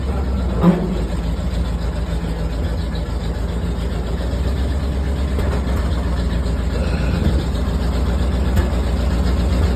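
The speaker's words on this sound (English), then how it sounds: "first turn on our hydraulic pump. Got our high idle on already." A vehicle engine held at high idle drives a hydraulic pump, giving a loud, steady mechanical drone with a low rumble that runs unbroken, marked only by a brief clank near the start.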